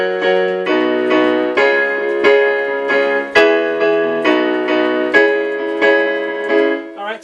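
Piano chords from a song, each chord struck in a steady repeating rhythm with some voiced minor and some major, ringing close and clear with no talking.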